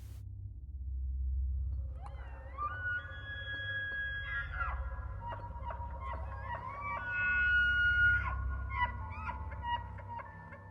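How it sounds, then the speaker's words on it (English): An elk bugles in pine woods among ridges: a series of high, whistling, gliding tones that rise and fall in pitch, layered over a steady low rumble, moderately close and with no talking. "Witnesses say that when you're close to it, an elk bugle doesn't just hit your ears, you feel it."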